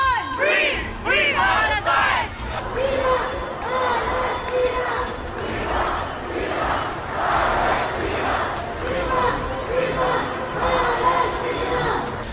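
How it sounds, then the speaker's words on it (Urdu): A large pro-Palestine protest crowd chants slogans calling for a ceasefire and an end to the killing in Gaza, loud massed voices rising and falling continuously with shouts on top. "غزہ کو بچاؤ، فلسطینیوں کی نسل کشی بند کرو، جنگ بندی کرو جیسے نعرے لگا رہے تھے۔"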